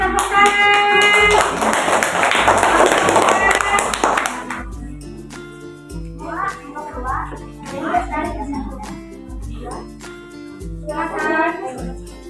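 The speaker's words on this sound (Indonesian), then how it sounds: "Kasih tepuk tangan." A classroom of students claps hands together in a loud burst that fades after a few seconds, followed by scattered taps and children talking nearby.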